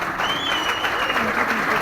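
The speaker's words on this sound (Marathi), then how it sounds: "जोरदार टाळ्या, जोरदार टाळ्या सरांसाठी." An audience claps steadily to welcome Dr. Sachin Patil, a regional team controller, on stage, a dense patter of hands lasting under two seconds with a voice speaking over it.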